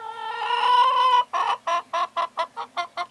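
A hen in a backyard coop clucks close by, starting with one long drawn-out squawk and then giving a run of about eight short, rhythmic clucks with no talk.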